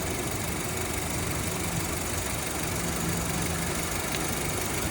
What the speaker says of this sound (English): Make sure the engine is running, AC is on